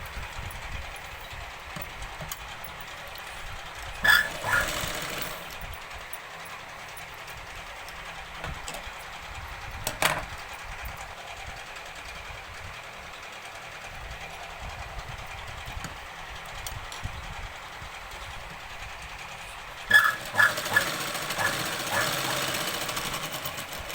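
A sewing machine stitching Punjabi dress pants runs in a few short bursts, separated by long stretches of low, quiet hum.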